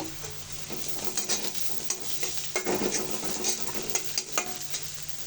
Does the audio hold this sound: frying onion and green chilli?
yes